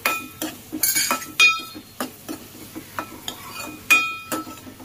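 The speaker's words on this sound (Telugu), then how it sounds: "ఉప్పు వేసేసుకొని మంచిగా అయితే కలిపేసుకోవాలి." A utensil stirs onions and salt in a pan for crab curry, with a run of sharp metallic clinks and scrapes at an uneven rhythm over a faint sizzle, close and clear with no talking.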